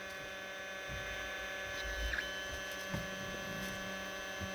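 A Creality CR-100 3D printer hums quietly as it moves and homes itself, with faint motor whirs and small clicks over a steady low mains drone.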